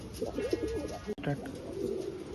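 Pigeons at a breeder's loft in Bangalore coo softly and repeatedly against a faint background hum, with a brief click partway through.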